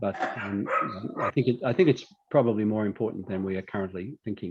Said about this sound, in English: Excuse my dog's barking in the background.